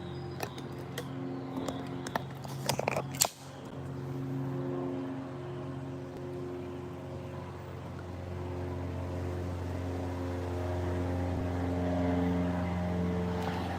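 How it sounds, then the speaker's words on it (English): A propeller airplane flies low overhead outdoors, its steady droning hum with strong tonal harmonics growing louder and holding, after some brief handling knocks at the start. "I hear another plane coming, you guys."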